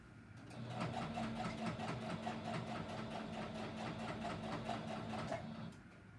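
Sewing machine stitching through quilt layers, a steady close mechanical whir with rapid rhythmic needle ticks running for about five seconds before stopping.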